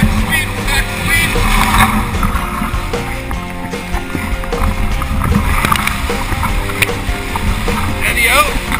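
A canoe runs whitewater rapids along a four-kilometre canyon stretch, with rushing water roaring steadily throughout and voices calling out paddling commands over it.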